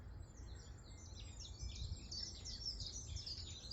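Birds chirp and sing continuously in the distance, high thin calls layered over a steady low outdoor rumble.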